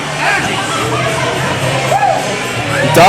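Wrestling crowd at a live show reacting to Dr. Feelgood, a steady loud hubbub of cheers, shouts and children's voices, with an announcer talking over it.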